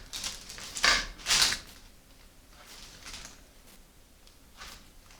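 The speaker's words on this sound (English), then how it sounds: "you just want to take a knife and you can just cut it into pieces" A knife cuts maple peanut butter freezer fudge into pieces with two crisp, close cutting taps early on, followed by fainter scraping touches against a quiet background.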